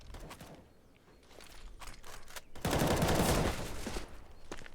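Rapid automatic gunfire rattles in bursts during a CS:GO match on Inferno, a dense volley swelling loudest near the middle amid scattered footsteps and softer shots.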